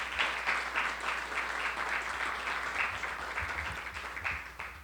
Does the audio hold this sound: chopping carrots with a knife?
no